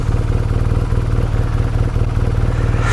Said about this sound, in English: That's the problem with the Boxer engine.